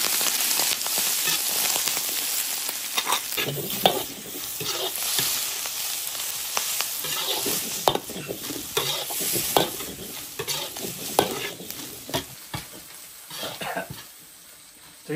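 Chicken giblets with seasonings and ginger stir-fried in an iron wok, giving continuous crackling sizzle and rhythmic spatula scrapes, fairly loud and close throughout.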